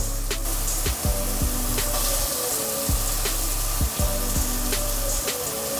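Eggs for Telangana egg pulusu sizzle steadily in hot oil while being stirred, a continuous loud fry with periodic scraping knocks of the spoon against the pan.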